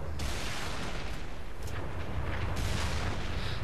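Wraith tank firing in Halo 3 on Legendary difficulty, heavy rumbling booms and blasts filling a continuous, dense battle din with no clear gaps.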